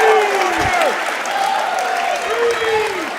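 Spectators at a high school wrestling match against Neshaminy applaud and cheer loudly, a dense burst of clapping under excited commentary that keeps talking throughout.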